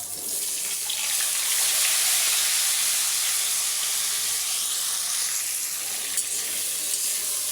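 Potatoes frying in a pan of oil, just after a batch of rohu fish, for a fish-and-potato curry: a steady, close, loud sizzle with a bubbling hiss that holds evenly throughout, with no talking.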